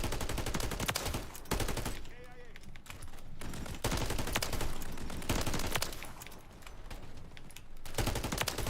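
A Holger 26 light machine gun fires in long rapid automatic bursts in a shooter game, loud and close, separated by short pauses, with people talking over the gunfire.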